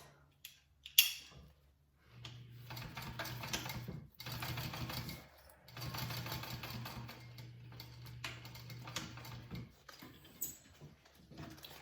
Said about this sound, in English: So you're just sewing your exterior pieces and you're not sewing over your zipper.